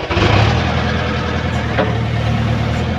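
A tractor with a trolley attached runs on a farm field, its engine holding a steady, loud, close rumble for the whole span without talking over it.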